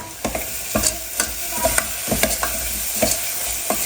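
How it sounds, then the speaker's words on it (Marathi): Masala is sautéed in a pan, with a ladle scraping and tapping the metal in a steady rhythm of sharp strokes over a continuous sizzle, close and fairly loud, no voices. "मसाला छान परतून घ्यायचा"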